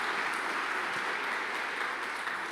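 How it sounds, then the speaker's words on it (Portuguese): A church congregation applauds in a steady, dense wash of clapping that fills the whole short stretch, fairly distant and even, with no speech over it. "aplauda Jesus"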